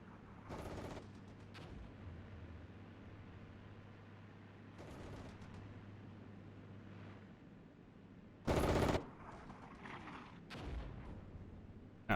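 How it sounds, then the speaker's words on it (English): Machine gun fire and other weapon shots in the tank warfare video game Armored Brigade, set in a Russian invasion of Finland, come as several short, fairly faint bursts over quiet background ambience, with one louder burst near the end. "what is it, PTR with some machine guns"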